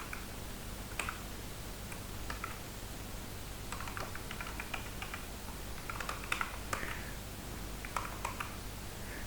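Soft, quiet keystrokes on a computer keyboard while entering a PHP array tutorial example, scattered irregular clicks in small bursts over a steady low hum, with no voices.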